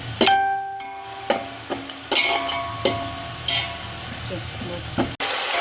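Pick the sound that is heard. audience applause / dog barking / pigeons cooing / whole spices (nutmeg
whole spices (nutmeg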